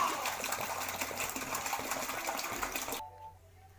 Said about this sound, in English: Now we put 10 liters of water in our buckets.